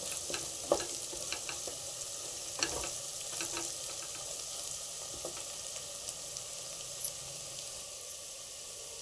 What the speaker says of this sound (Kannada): ಈರುಳ್ಳಿ ಫ್ರೈ ಆಗ್ತಾ ಇದೆ